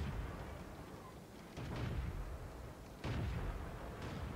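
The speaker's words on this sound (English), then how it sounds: "I'm getting shot from the hill now" Gunfire from a hilltop in a clan-war video game: two heavy booming shots, about a second and a half apart, stand over a continuous rumbling battle background with no talking.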